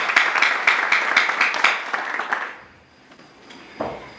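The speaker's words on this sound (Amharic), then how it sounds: "እስኪ አጨብጭቡ ወደ አንዴ ለጌታ" Congregation in a church clapping for the Lord, a full crowd's applause that holds strong for about two and a half seconds, then fades quickly, leaving faint room noise and a stray clap or two.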